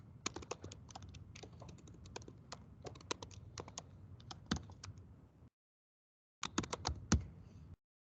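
Rapid, close clatter of keys on a computer keyboard, typed in two bursts separated by a brief silence, with no voices.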